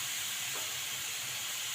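Sautéing in a pan gives a steady, bright hiss with a sizzle that runs unbroken from start to finish, close and moderately loud, with no voices.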